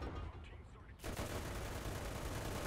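In a tank video game, .50 caliber gunfire rattles in a rapid continuous burst that starts abruptly and stays dense and loud until the end.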